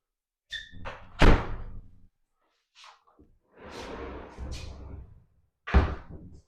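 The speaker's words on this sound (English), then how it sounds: "Close the pocket door." A pocket door slides shut inside a house, giving a few dull thuds and sliding rumbles spread over several seconds, close by and moderately loud.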